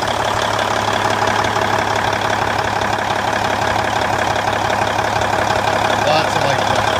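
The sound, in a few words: 2003 Kenworth T800H dump truck engine idling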